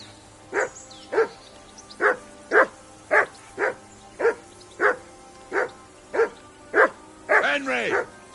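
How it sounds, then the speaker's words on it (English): A dog in Kingdom Come: Deliverance II barks loudly and close in a steady run of about a dozen evenly spaced woofs, ending in a higher yelping whine. "Call off that damn dog before he wolfs down the last of our meat."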